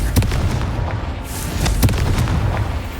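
Booming blast of a Confringo spell in Hogwarts Legacy, a loud rumbling explosion with crackling bursts and a continuous low roar.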